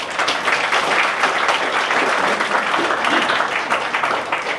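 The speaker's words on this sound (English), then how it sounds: "Let's give yourself a round of applause." Crowd at a community ambassadors induction event applauding loudly and continuously, a thick, even roar of clapping from many hands with no pause.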